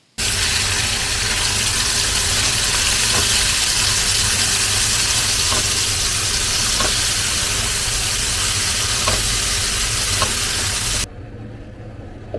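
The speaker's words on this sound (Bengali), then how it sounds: "চিংড়ি মাছটা এবার ভাজবো ভেজেই মশলা কষিয়ে তরকারিটা বানিয়ে নেব" Prawns sizzle and spit in hot oil in a pan in a home kitchen, a loud steady hiss with faint crackles running throughout, cutting off abruptly near the end.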